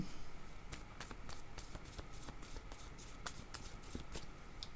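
Playing cards shuffle and slide during a French-language card reading, a quiet close series of crisp riffling flicks and taps, with no talk heard.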